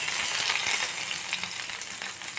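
Whole spices of panch phoron sizzle steadily in hot oil for a curry of drumsticks and potatoes, a continuous close crackling hiss with small pops throughout.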